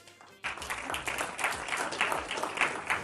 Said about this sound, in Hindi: ताली नहीं बजाएंगे आप लोग?